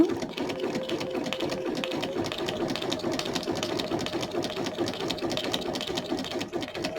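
A sewing machine runs steadily at a moderate pace, its rapid mechanical stitching rattle continuous and close, with no talking.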